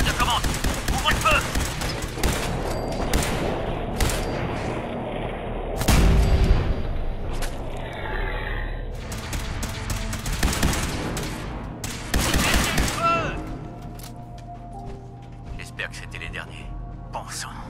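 A firefight in Fallout 4 erupts in dense volleys of gunshots and impacts, loud and near, with bursts clustered through the middle and later stretches while voices speak over the shooting.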